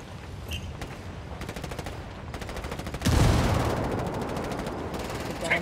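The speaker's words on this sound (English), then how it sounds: "Taking heavy fire" Heavy automatic gunfire in the tactical shooter Ghost Recon Wildlands, sustained bursts of rapid shots that swell louder and denser about halfway through, continuous and close.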